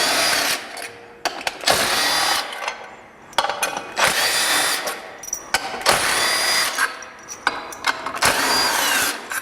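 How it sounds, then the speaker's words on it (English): Screws being driven out with a 3/8 inch socket on a power tool while removing a primary clutch washer, heard as repeated short bursts of whirring tool noise separated by brief pauses, close and fairly loud. "Take a 3/8 inch socket, take the screws out."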